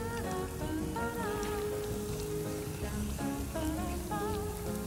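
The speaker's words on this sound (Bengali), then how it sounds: "তেল গরম হয়ে গেছে, বেশ লাল লাল করে ভেজে তুলতে হবে" Bread slices fry in hot oil for shahi tukra, giving a steady, dense crackling sizzle throughout, with faint tonal sounds in the background.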